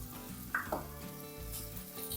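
Chopped onion and ginger sizzling in a hot pan, a continuous moderate hiss with a couple of brief bumps as pieces are stirred or dropped in, no talk.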